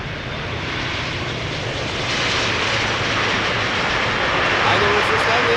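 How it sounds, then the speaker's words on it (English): A landing airliner at Amsterdam Schiphol airport rolls out with reverse thrust at idle, a steady loud broadband jet roar that swells slightly and holds throughout. "Idle reverse landing."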